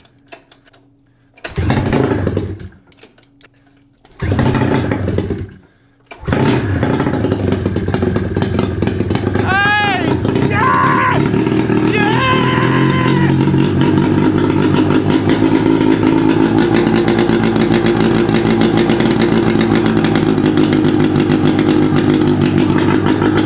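A 600cc snowmobile engine fitted to a go-kart is pull-started in two short bursts that die out, then catches and keeps running loud and steady with a rough, rattling drone and some revving.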